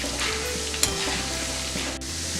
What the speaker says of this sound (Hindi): हम उसी तेल में 1 कप चने की दाल, उसको हम तल लेंगे।